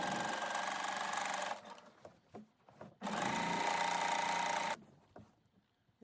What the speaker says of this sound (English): stitch 1/8 inch from the edge with the facing open